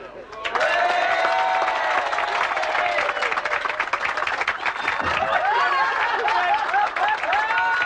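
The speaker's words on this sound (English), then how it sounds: "A round of applause for the gentleman for his help." A stage-show audience claps for a volunteer helper, dense applause running throughout, mixed with laughter and voices and some tonal sounds.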